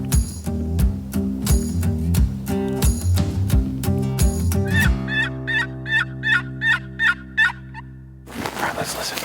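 Wild Merriam's turkeys gobbling in the mountains: a string of regular clucking calls up close gives way to a sequence of distant rattling gobbles. A short burst of sharper noise follows at the end.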